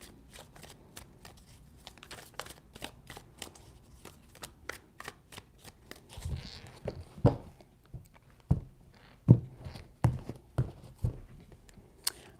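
Tarot cards are shuffled by hand in a quiet room, first as a rapid run of light, crisp riffling snaps and then as slower, louder thumps and slaps of the deck, close to the listener.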